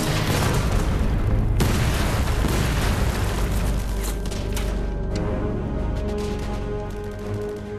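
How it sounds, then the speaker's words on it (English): A Panzerfaust rocket blast at a castle gate, a huge booming explosion followed by crackling gunfire, loud and close, fading into a rumbling tail. "prepare to blast their way inside with a Panzerfaust rocket"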